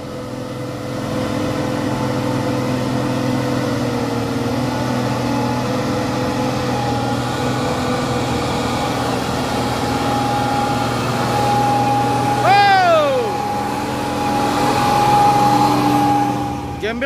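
A Hino truck, Euro 4 with a modified exhaust, labours up a steep incline with a steady low engine drone, while a tonal whine rises and a horn-like sweep appears near the end; someone talks over it.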